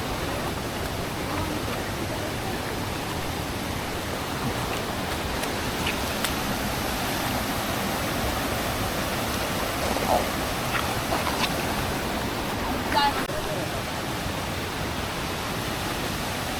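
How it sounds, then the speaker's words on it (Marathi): Water flowing steadily near a small village waterfall in Konkan, a continuous broadband rush that stays even and close throughout with no talk over it. "हा जो प्रवाह दिसतो तो पाठच्या पाण्याचा येतो"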